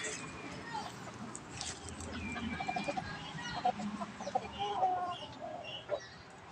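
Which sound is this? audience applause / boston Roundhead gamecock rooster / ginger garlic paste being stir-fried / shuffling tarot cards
boston Roundhead gamecock rooster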